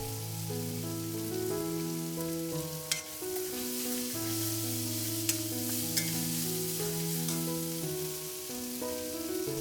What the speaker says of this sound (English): Fry until everything is well cooked. The onions, the garlic and ginger.